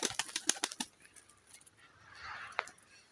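Birds beat their wings in a burst of rapid flaps as they dart inside their enclosure, close and fairly loud at first, then fading into quieter rustling with one more sharp flutter near the end.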